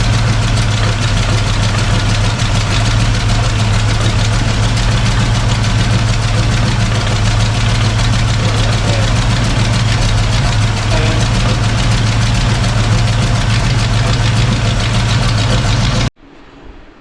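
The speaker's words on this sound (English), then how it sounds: "I got it cranked up, had it running." A square body truck engine idles steadily with a deep low rumble, running on fresh gas after a new radiator; the loud continuous drone holds for about sixteen seconds before cutting off abruptly.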